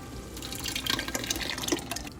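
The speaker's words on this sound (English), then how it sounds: "we got 28 ounces of crushed tomatoes. Gonna put that in." A 28-ounce can of crushed tomatoes pours into a pot of Bolognese sauce, making a wet, sloshing, dripping liquid sound that runs steadily for a couple of seconds with a few splattery peaks.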